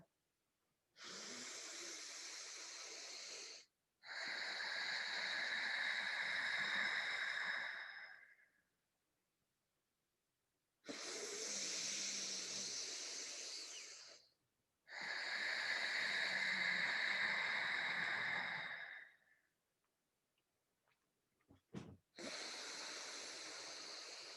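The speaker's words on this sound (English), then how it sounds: "Take 3 long, deep breaths, really connecting consciously with each part, with the blessing of each inhale and exhale." Slow, deep breathing close to the microphone, long airy inhales and exhales in a few separate drawn-out breaths with silent pauses between them.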